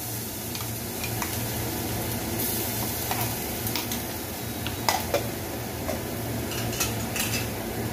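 Finely chopped ginger and garlic fry in a little oil for chili soya manchurian, giving a steady close sizzle dotted with occasional light clinks of a spoon against the pan.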